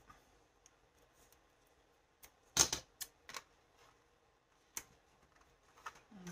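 Scotch adhesive tape pulled and torn during paper crafting on a photo album page: a few sharp, quick rips and snaps, with one longer tear. The sounds are scattered across quiet moments and heard close up.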